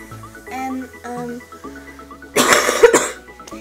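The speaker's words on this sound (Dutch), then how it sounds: "ik moet nog wel hoesten" A few short, close coughs in a burst, following quieter sustained tones, with no talking.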